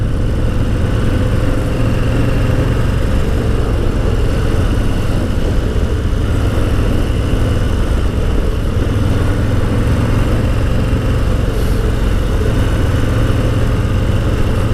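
A Harley-Davidson Low Rider S with a Milwaukee 8 engine rumbles steadily while riding, a continuous low, even drone with no breaks or talk.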